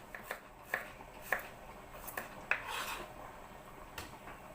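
Knife thinly slicing two garlic cloves on a board, a series of quiet, separate cuts and taps at an uneven pace, close and faint, with no voices.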